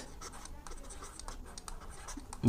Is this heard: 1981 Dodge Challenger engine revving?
no